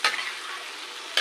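Food is stirred in a hot pan with tomato and kalamansi juice, making a bright, continuous sizzle with scraping strokes at the start and end, close and loud, with no voices.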